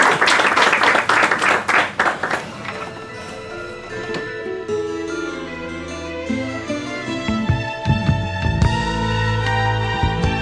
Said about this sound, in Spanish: Aplausos para Montesino